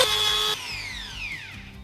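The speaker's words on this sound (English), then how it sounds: "I'm gonna pass over them once with a Dremel with a sanding bit." A handheld Dremel rotary tool with a sanding bit whines at high pitch against channels in a build, steady at first, then its tone slides gradually downward as it bites in or slows, close and alone with no talk.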